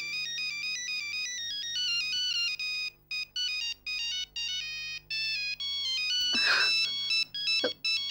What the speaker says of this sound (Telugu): ఫోన్ చేస్తుంది ఎవరో ఏంటో